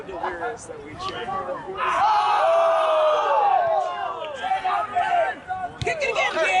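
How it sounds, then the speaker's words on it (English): Soccer supporters cheer and chant in a stadium at a Canton Akron United Force SC match, a loud, sustained crowd roar that swells midway with overlapping voices and shouts. "We're so delirious that we cheer."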